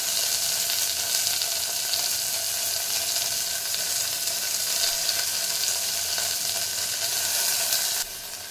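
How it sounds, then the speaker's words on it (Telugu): Garlic, green chillies, onions, coriander, cumin and curry leaves fry in hot oil with a loud, steady sizzling hiss close by, dropping suddenly quieter near the end. "ఇది కొంచెం ఫ్రై అవ్వాలి."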